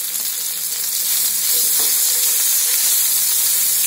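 Potatoes frying in oil in a pan, a dense, loud, continuous sizzle that swells a little partway through, heard close with no voices.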